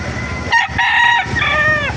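A rooster crows loudly and close by at a chicken market in Baliuag, Bulacan, a long drawn-out call with a rising then falling pitch, over steady farmyard background noise. Nobody speaks.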